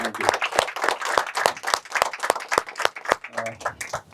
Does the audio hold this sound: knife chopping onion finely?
no